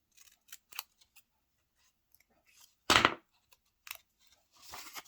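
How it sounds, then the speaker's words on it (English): Scissors cut a triangle out of paper for an accordion journaling tuck spot, giving a few sharp, close snips with one louder crunching cut in the middle and quiet pauses between. "cut a triangle out there"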